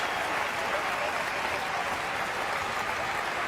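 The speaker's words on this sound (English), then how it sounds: "And Serbia applauding the crowd." A basketball crowd at the Madrid World Cup final between the USA and Serbia claps steadily, a dense continuous wash of applause filling the arena at even loudness, with faint voices mixed in.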